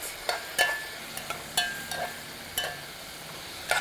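A spoon stirs seaweed soup with a splash of soy sauce cooking in a pot, with about eight distinct scraping knocks at irregular intervals against a quiet background, close up and with no talking.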